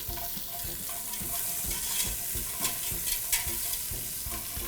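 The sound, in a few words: julienned onions sauteing in a pan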